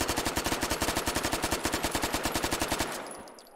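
Rapid automatic fire from an MP45 submachine gun in the VR game Hot Dogs, Horseshoes & Hand Grenades, a steady loud burst of evenly spaced shots lasting about three seconds before cutting off into a brief ringing tail.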